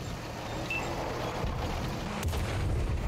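Video game artillery fire rumbles as a continuous low booming roar with a sharp crack of impact near the end, distant and steady, with no talking over it.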